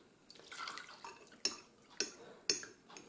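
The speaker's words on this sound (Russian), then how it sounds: "Добавляю воды." Water is poured into a jar while making beet kvass: a soft splashing trickle, then three sharp, close drip-like clinks at even intervals against a quiet background.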